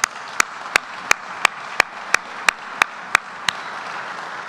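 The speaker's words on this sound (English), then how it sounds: "So let's give him another round of applause." At a dinner event, about a dozen sharp, evenly spaced hand claps ring out close and clear, with only faint room noise between them and no voices.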